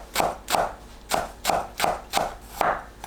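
A knife slicing perilla leaves into thin strips on a cutting board for a Korean stir-fried beef brisket dish: seven crisp, evenly spaced chops in a steady rhythm, close and clear, with no talking.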